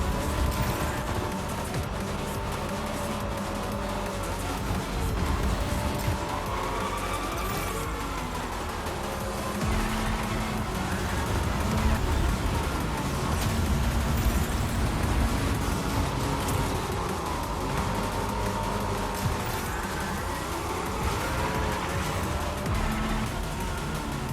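Race cars roaring through a Fortnite Rocket Racing race, with a dense, continuous engine and whooshing rumble swelling and fading, loud and sustained throughout with no talking over it.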